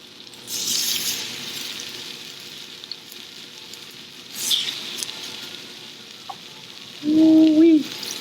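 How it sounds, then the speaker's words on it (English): Pork chops sear in hot oil, a broad low sizzle that holds steady at first, then jumps louder and brighter for about a second near the end as a chop goes into the pan. "We're gonna let this oil get heated up, and then we're gonna start searing these pork chops."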